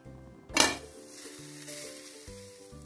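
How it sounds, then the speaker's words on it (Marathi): An uttapam hits the hot pan with a sharp burst of sizzling as it is flipped, then settles into a steady softer sizzle, with faint tonal background music. "उत्तप्पा पलटी करूया।"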